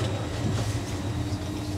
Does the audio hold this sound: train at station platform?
yes